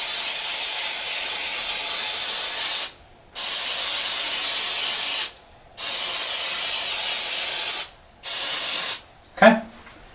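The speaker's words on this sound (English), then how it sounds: "I'll spray that over the sink." Cooking spray hisses from an aerosol can over a kitchen sink in four long, loud bursts separated by brief pauses, ending with a small clunk.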